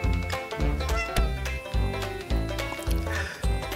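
A cat meows several times in a rhythm over loud, steady background music.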